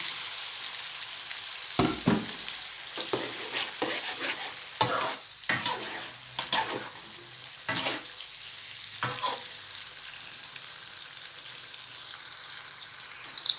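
Garlic and fresh shrimp stir-fry in a pan for shrimp pad thai, a hissing sizzle broken by loud clanks and scrapes of a spatula on metal coming in irregular bursts, close up.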